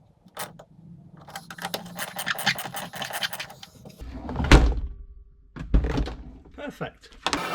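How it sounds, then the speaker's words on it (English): New bolts are hammered into a car, heard as scraping, metallic knocks and a few heavy thunks spread irregularly over several seconds, with a person talking throughout. "I've got some new bolts, so I'm going to bang them in"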